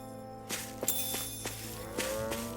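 Cow mooing in the video game Tales of Arise, a few drawn-out lowing calls over a steady ambient game soundscape with no talking.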